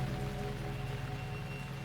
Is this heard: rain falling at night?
yes